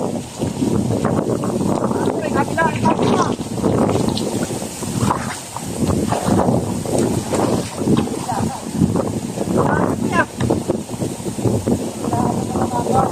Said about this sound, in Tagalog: Maraming hangin.